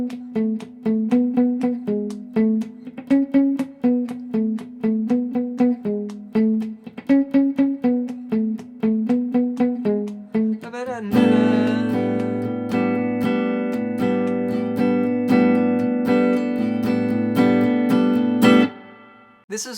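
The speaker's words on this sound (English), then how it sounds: "This is what I call bubble picking, and you'll hear this a lot in R&B and funk styles" Clean electric guitar picking the intro line in a funky, bouncing bubble-picking pattern of short muted notes, played alone, then joined by fuller chords and a backing track for the second half.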